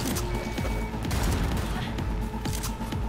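Cyberpunk 2077 gunfire: a dense, continuous burst of rapid, loud shots and booms that fill the whole moment, with no voices over them.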